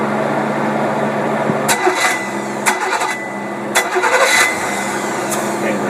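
A Buick engine fitted with dual WCD carburetors runs at a rough idle, a steady low rumble with several sharp clicks and bursts of higher noise, likely throttle blips or mechanical clatter as it keeps running.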